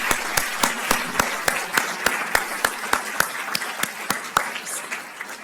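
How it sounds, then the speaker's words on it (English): A small audience applauding a team, with distinct individual claps in a fairly regular rhythm over a soft bed of clapping, moderately loud and thinning toward the end. "let's give them a round of applause"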